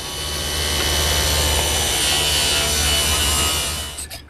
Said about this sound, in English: bevel the bottom edge of the vertical piece so that when you fold it up, it won't bind if there's sawdust in the way